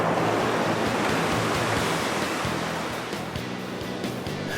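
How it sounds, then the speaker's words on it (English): Medium-swell ocean waves dump onto a shallow beach in a loud, continuous roar of surf and wash, with some wind buffeting the microphone and no voices. "The dumping waves of this medium swell keep the mullet out of the shallows because it's too rough for them to swim there."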